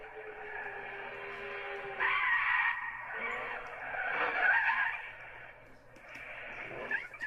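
A car in the Gran Turismo 6 racing game skids off the track. Tires screech in two loud bursts over a steady engine drone, with no talking.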